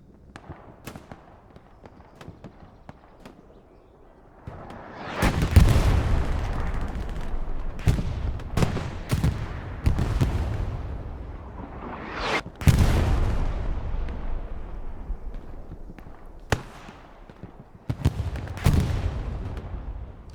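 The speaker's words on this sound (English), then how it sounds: "basically what you just saw come up on your screen, that's where artillery is going to shell" Artillery shelling in the World War II shooter Hell Let Loose, heavy booming impacts and sharp cracks arriving in irregular clusters, loud and near after quieter distant thuds at the start, no speech.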